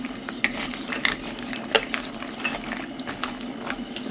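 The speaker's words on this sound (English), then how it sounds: "I'm just going to turn that down to medium heat because I don't want it boiling too vigorously" Bubbling and faint sizzling from a pot on a stovetop while making a sweet treat, a steady simmer punctuated by small pops and clinks, close and moderately loud with no talking.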